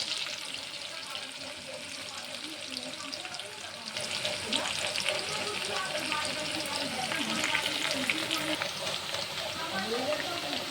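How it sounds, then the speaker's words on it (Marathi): Chopped onion frying in a pan for chole masala, a steady sizzle with scraping stirs that grows a little louder partway through, under occasional talking. "कांदा टाकलाय. आता हे सर्व एकजीव करायचं, थोडंसं लालसर होऊ द्यायचं 2 मिनटं."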